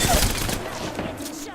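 Gunfire in Apex Legends, a loud, dense burst of rapid shots right at the start that gives way to a continuing rattle of fire under game sounds.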